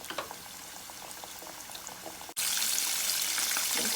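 Chicken pieces frying two at a time in about 2.5 cups of oil, KFC-style, a steady bubbling sizzle that jumps to a much louder, denser crackle partway through, with no talk.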